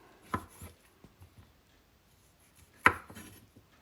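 A knife slices through banana peels on a cutting board, giving two sharp chopping hits with faint softer taps between them, close and quiet.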